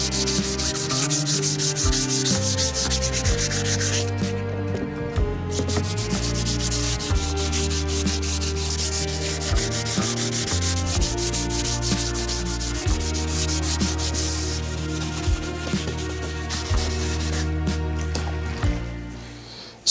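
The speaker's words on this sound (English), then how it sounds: "I'm just looking to scuff the surface slightly to create a key so that there is something for the undercoat primer to stick to" A particle board surface gets scuffed by hand sanding before primer, with close, rhythmic back-and-forth rasping strokes that repeat steadily for about twenty seconds and only a brief pause, with no talking.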